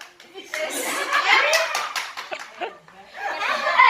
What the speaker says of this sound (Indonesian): Ayo kita tepuk salut, tepuk salut.